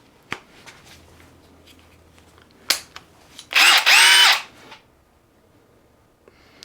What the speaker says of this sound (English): All right, so we're gonna start on drilling, speed 2.